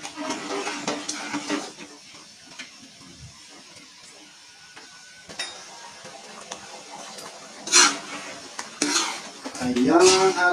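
Lechon paksiw is stirred in a pot, giving clinks and scrapes of a utensil against the metal over a faint simmer. The sound is close and comes in bursts, louder toward the end, with no talking.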